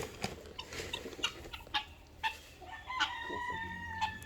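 Several roosters crow and cluck around a farmyard, calls overlapping at irregular intervals, some close and some farther off.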